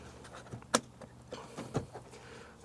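A plastic clip on the door card of an MG MGF or TF pops loose during a door handle replacement, giving two sharp close clicks about a second apart over faint handling noise.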